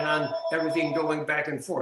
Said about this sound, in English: Whoops, sorry, that's my phone.